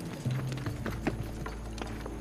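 Hooves of a horse pulling an ancient Egyptian chariot clip-clop in a steady rhythm under a constant low rumble, moderately loud with no voices.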